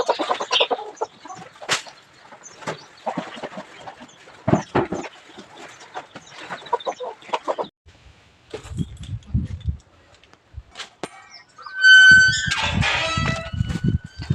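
Household chickens cluck in short, scattered bursts nearby, with louder, busier squawking near the end.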